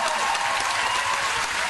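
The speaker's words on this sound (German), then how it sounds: "Trotzdem nochmal an der Stelle vielleicht einen Applaus für Martin." An audience at a lecture-hall slam event applauds for Martin, a finalist: loud, dense, continuous clapping filling the room from start to end.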